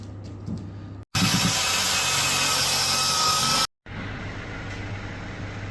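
A power tool cuts metal on the body of a 2007 Honda Accord under restoration, making a loud, steady, harsh grinding roar for about two and a half seconds between quieter workshop hum.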